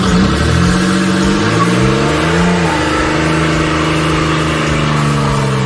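Car doing burnouts at a test facility, with a loud, close engine roaring and revving steadily, pitch sliding up and down while tire and exhaust noise fills the background.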